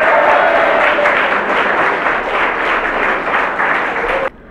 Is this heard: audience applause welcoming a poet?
yes